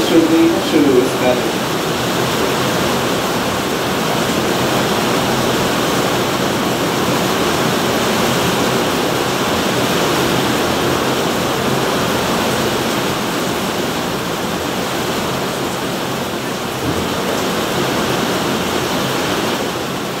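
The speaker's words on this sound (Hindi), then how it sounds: "बारिश हो गई है शुरू इसका।" Rain begins falling, a dense, even hiss that holds steady and fills the background for about twenty seconds with no one speaking.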